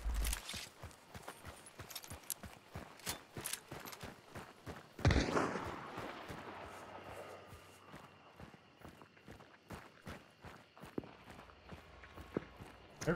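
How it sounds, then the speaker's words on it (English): Footsteps crunch through the woods in a video game, a fast, steady patter of steps with a louder rustling burst partway through, and no voices. "hear footsteps in the woods."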